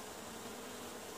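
Faint, steady buzzing of honeybees fresh from a cutout as they are installed into an observation hive, a continuous low drone with no voices.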